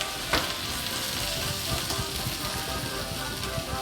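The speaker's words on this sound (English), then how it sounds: "you put in our cornstarch with the Kirsch, and you really want to whisk it in there." Cornstarch mixed with Kirsch is whisked into melted Gruyere and white wine fondue, giving a continuous bubbling simmer with soft scraping and a few sharp clicks of the whisk against the pot, with no talking.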